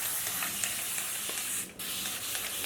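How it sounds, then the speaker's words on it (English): Water misted from a spray bottle onto natural hair while styling a sleek ponytail gives a steady close hiss that breaks briefly partway through, then resumes. "So to do the front, I'm going to spray the water. So really spray water"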